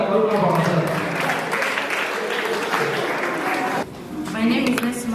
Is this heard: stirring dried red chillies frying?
no